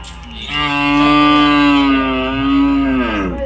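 At a cattle market in Punganur, one cow lets out a loud, drawn-out moo up close, holding steady for a few seconds before trailing off.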